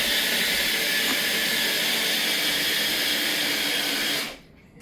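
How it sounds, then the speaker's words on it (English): A small food processor whirs steadily as it blends a paste of salt, cinnamon and turmeric, a loud continuous motor hiss that runs without a break and then cuts off abruptly near the end. "this little tiny wee food processor"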